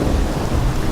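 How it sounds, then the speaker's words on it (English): A raging storm pours heavy rain under a deep, continuous rumble of thunder, loud and dense with no pauses. "a great storm was raging outside"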